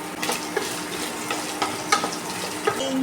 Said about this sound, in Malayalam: ഈ തേങ്ങ ആദ്യം ഒന്ന് മൂപ്പിച്ചെടുക്കാണ്.